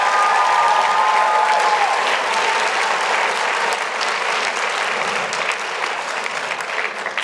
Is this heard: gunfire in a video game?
no